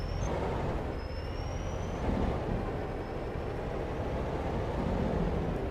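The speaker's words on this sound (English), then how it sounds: "This truck is obnoxiously loud." Loud dump truck in the Farming Simulator 22 game, a continuous heavy engine drone with a faint high whine and hiss, steady and close.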